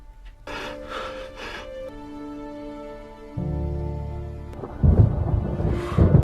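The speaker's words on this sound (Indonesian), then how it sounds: "Tepat saat hujan deras," Heavy rain and a low rumble of thunder in a scene from the 2016 film The Wailing, with steady hissing downpour under sustained tonal music from the soundtrack.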